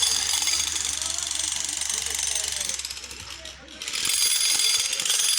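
Drilling at a bridge construction site in Mirpur makes a loud, continuous, harsh mechanical rattle that dips briefly partway through before resuming at full strength.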